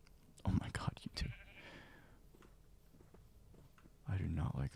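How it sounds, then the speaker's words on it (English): Sheep bleat in a Minecraft survival world, short wavering cries heard at moderate volume, with a soft whispering voice around them. "I do not like these sheep."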